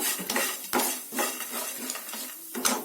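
Dry spices for vangi bath powder are stirred in a pan over a low flame, with repeated close scrapes and clinks of a utensil against metal in an irregular rhythm and no sizzle or talk.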